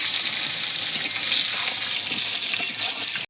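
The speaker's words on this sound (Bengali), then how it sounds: "আলুটা লাল লাল করে ভেজে নেবো।" Potatoes dusted with salt and turmeric frying in hot oil, a steady close sizzle with faint crackles, alone with no talk, ending abruptly.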